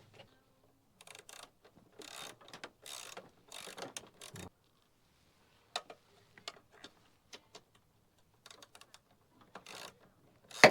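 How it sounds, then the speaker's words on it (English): A wrench tightening 1/4-20 bolts underneath a light mount on a Lexus LX570, heard as bursts of close ratcheting clicks separated by quiet pauses, ending in a sharper knock. "And then I'll use a wrench underneath."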